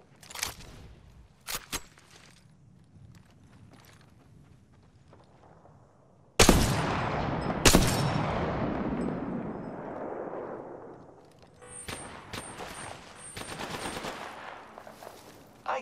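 Bursts of automatic gunfire in a video game shooter: a few sharp isolated shots, then a loud sustained volley that slowly tails off, followed by scattered quieter shots and rattles.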